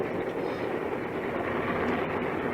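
Steady rumbling rattle of a moving train from a short film, a continuous broadband roar of wheels and carriages with faint clickety-clack, loud and unbroken throughout.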